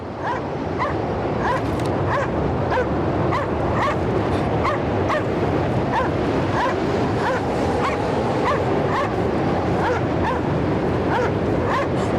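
Several dogs bark and yip excitedly in a snowy setting in the video game Cryostasis, a steady run of sharp, close barks with whimpers over a constant wind-like rush, no talk.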